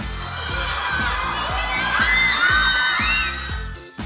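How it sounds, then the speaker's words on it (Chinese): Excited fans at an airport in Hong Kong scream and cheer loudly as BTS members arrive, shrill overlapping shrieks over a steady rapid patter of camera shutters. "几位成员一出现就已经搞到在场 fans 欢呼尖叫。"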